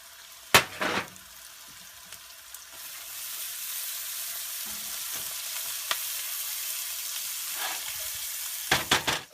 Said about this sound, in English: We can add in the garlic and start it sweating.